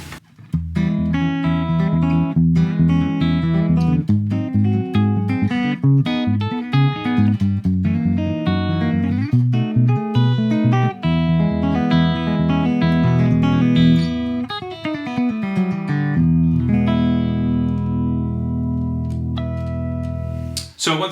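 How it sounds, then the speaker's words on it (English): Fingerstyle electric guitar, a Gibson 335, played through an amp into a 4x12 cabinet, with steady picked melody and chords ringing continuously and loud, closing on a long sustained chord. "For another clip with the 335, I thought we'd just do a little fingerstyle thing"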